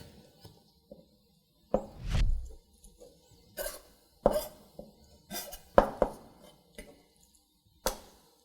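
A knife trims a raw chicken breast on a cutting board, making a handful of sharp, irregular knocks and soft scraping cuts, close and fairly quiet with pauses between strokes.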